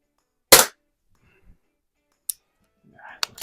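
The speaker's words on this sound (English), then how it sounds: "I am shooting the 7-grain Meisterkugels" A Daisy model 62 underlever pellet pistol fires 7-grain Meisterkugels: one sharp, loud crack, then a faint thud and a couple of small clicks, with a brief soft murmur near the end.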